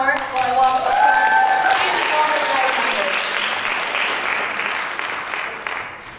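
A high school improv show audience applauds in a full, sustained burst that slowly thins out over six seconds, with voices heard near the start.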